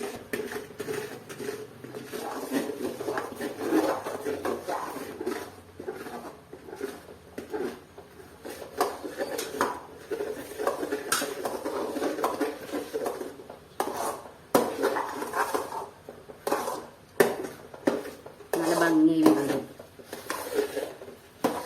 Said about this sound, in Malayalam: കൈയെടുക്കാതെ ഇളക്കിക്കൊണ്ടേ ഇരിക്കണം